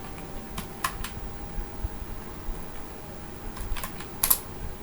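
Light, sparse taps on a computer keyboard, typed while searching for Notepad on a PC, come in a few scattered clicks over a quiet room hiss, soft and close, with no talking.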